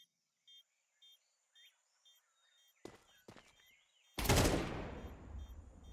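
Gunfire from a professional esports league match in a shooter game: faint rhythmic beeps lead into two sharp, close shots, then a loud blast of rapid fire whose roar decays slowly.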